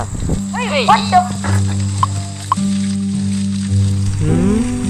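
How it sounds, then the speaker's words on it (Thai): Eggs frying in a pan in a cartoon farm scene, a steady bright sizzle running under animated voices and musical tones with several short pops and swoops. "ได้เวลาทำไข่ทอด"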